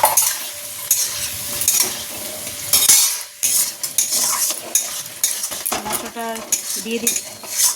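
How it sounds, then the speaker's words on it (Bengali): Potatoes frying in a pan make a loud, close sizzle, broken up by frequent clanks and scrapes of a metal spoon stirring against the pan and a brief quiet gap partway through. "আলুগুলোকে আর একটু লাল লাল করে ভেজে নিই।"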